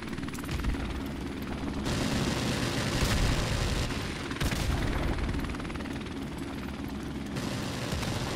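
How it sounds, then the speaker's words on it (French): An enemy helicopter approaches in a modern military shooter game, its steady rotor drone running loud throughout, mixed with bursts of gunfire and other game noise. "Hélicoptère ennemi en approche."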